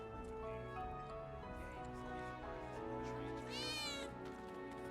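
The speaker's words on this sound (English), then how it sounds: "I think one of Betty's cats might be near." A cat meows repeatedly in the video game Final Fantasy VII Remake, tonal mewing calls over a steady droning game background, with one higher rising-and-falling yowl near the end.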